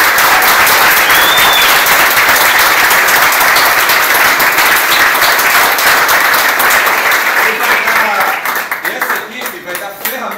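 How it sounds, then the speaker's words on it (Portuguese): An audience claps for the teachers with sustained, dense applause at close range that stays strong, then thins out and tapers off near the end. "Vamos aplaudir esses professores."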